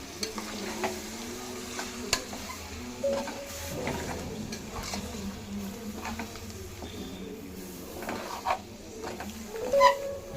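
Chicken curry, Hyderabadi style, stirred in a pan after chili powder is added, giving a steady close scrape and soft sizzle with irregular spoon clinks and no talking.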